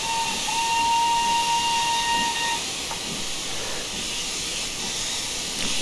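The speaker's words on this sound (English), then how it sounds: "I love the whistle tune in general." An LB&SCR K Class 2-6-0 steam locomotive in Train Simulator Classic sounds its whistle tune: a sustained bright tone lasting about two seconds above continuous steam hiss and faint rail rumble, followed by hiss and soft clanks.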